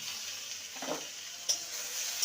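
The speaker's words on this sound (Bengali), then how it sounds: "লঙ্কা কাঁচা লঙ্কা আর টমেটোকে ভালো করে কষিয়ে নিয়েছি" Green chilies and tomato being sautéed in a pan for nababi barbati, a faint steady sizzle with a couple of light spatula taps, quiet and close, with no one talking.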